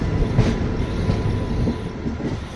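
A train runs on a parallel track beside the Bengaluru to Delhi Rajdhani Express, a close, continuous rumble with soft clickety-clack beats and a brief squeal of wheels.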